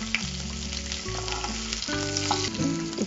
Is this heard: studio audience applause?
no